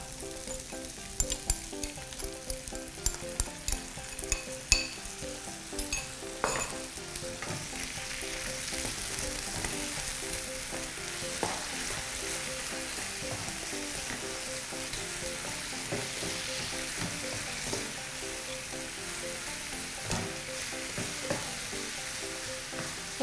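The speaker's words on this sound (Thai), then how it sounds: "ก็ผัดให้เข้ากันนะคะ" Shrimp stir-fried with chili and salt crackles loudly and continuously in a pan, with a few sharp utensil knocks early on and no talking.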